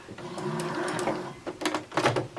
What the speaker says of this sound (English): I'm going to just top stitch right along the edge